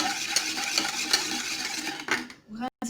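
A spoon stirs a lemon cake mixture in a bowl, making a run of quick, close scraping and tapping strokes that ends with a brief pause and a final knock.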